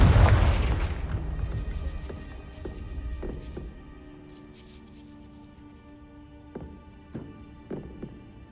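Spell explosion from the Confringo curse in the Hogwarts Legacy game: a loud booming blast at the start that rumbles and decays, followed by scattered faint impacts and lingering ambience.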